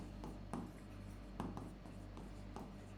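Marker or chalk on a classroom board during a biology lesson, heard as short scratchy strokes in a few separate bursts, faint and close, with no speech.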